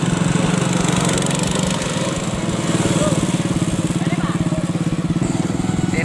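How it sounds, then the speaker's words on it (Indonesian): A small motorized rickshaw engine chugs steadily nearby, a rapid buzzing putter with a rough, rattling tone that holds constant throughout. "kita menggunakan becak motor."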